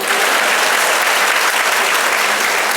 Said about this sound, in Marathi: आणि आता एकदा टाळ्या होत्या माझ्यासाठी